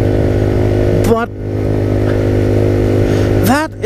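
A 30 km/h Danish moped on new tires accelerates while being ridden off-road, its buzzing engine loud and close, with two sharp rises in revs partway through.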